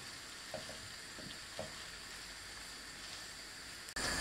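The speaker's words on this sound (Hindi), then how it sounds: "इसको भूनते रहेंगे।" Yogurt and spice masala for beef biryani frying in a pan over a fairly high flame, a faint, even sizzle with a couple of soft taps, ending in a sudden sharp knock.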